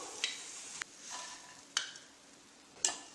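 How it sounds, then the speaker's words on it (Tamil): Boondi batter drops frying in hot oil give a faint, steady bubbling sizzle, broken by three or four sharp clinks of a ladle against the pan, close and quiet, with nobody talking. "அந்த சலசலப்பு அடங்கினதுமே எடுத்துடணும்"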